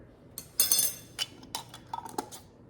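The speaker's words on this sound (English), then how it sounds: "I'm actually gonna use my spoon to go in and give it a good stir." A metal spoon stirs soaked chia seeds in a container, giving a few bright clinks and scrapes against the sides in short, close bursts.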